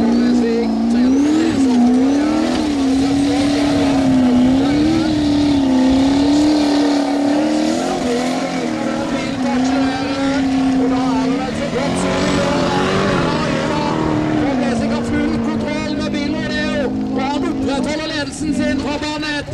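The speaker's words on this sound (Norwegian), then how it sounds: "enormt kraftige motoren han har under panseret på denne bilen" A Formula Offroad race car engine revs and drones loudly and continuously with rising and falling pitch on a hill climb in Mysen, Norway, while a commentator talks over it throughout.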